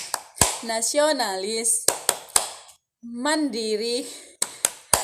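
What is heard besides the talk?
rhythmic hand clapping of Tepuk PPK chant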